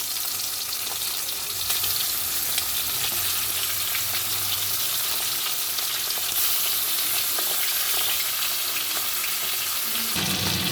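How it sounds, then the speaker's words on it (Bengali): Tengra fish frying in hot oil in a kadai, a steady dense sizzle and crackle filling the whole stretch, close and loud with no voices over it. "কড়াইতে তেল দিয়ে দিয়েছি, তেলটা ভালো করে গরম করে এবার মাছগুলো ভেজে নেব।"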